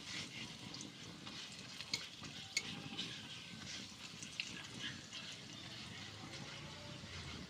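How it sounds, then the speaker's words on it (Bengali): Papad frying in a little oil in a wok, giving a steady, fairly quiet sizzle with scraping and stirring clatter throughout, no talk. "পাঁপড়ও ভাজা নিতেছি।"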